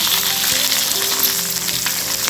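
Urad dal and green chillies fry in hot oil in a pan for a tamarind chutney, giving a loud, steady sizzle that runs close and unbroken, with no one talking.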